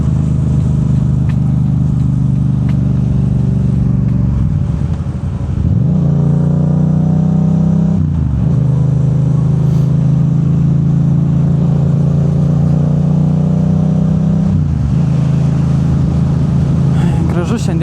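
A Yamaha MT07 motorcycle engine drones loudly and close, with several rising revs and gear changes through the ride, continuous throughout and dominating the sound.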